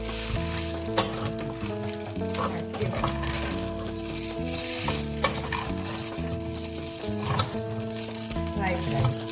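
Pineapple fried rice with Chinese sausage and chicken breast sizzles loudly in a hot pan, with steady frying hiss and repeated scraping stirs of a spatula throughout, no voices.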